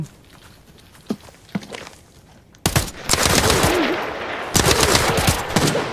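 Gunfire in Arena Breakout Infinite: a few faint distant shots, then loud, close automatic bursts that rattle on for several seconds with footsteps mixed in. Nobody speaks.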